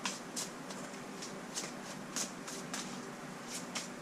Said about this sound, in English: These cards are shuffling beautifully